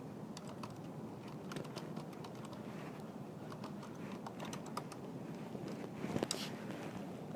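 Keyboard typing during a programming lecture, a steady run of soft, rapid key clicks close to the microphone over a constant low background hum, with no talking.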